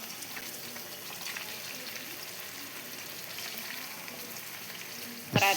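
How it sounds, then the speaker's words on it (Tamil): Fish pieces fry in hot oil with a soft, steady sizzle held at a low level throughout, ending in a sudden sharp knock. "இப்போ எண்ணெய் நல்லா சூடானதும் நம்ம மீன் துண்டுக்களை சேர்த்துக்கலாம்."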